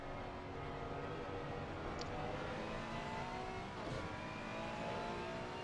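Racing engines of a Ferrari and a Lexus in a sim racing game roar steadily and loudly throughout, a continuous buzzing drone with slight rises in pitch and no talk.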